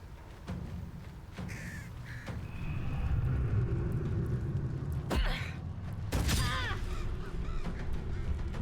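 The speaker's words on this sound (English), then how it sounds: "we're just gonna get surrounded by crows here" Crows caw repeatedly in a Baldur's Gate 3 battle, harsh calls rising over a steady low game rumble, with a louder burst of squawking near the end.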